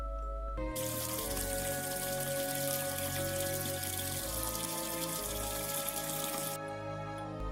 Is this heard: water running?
yes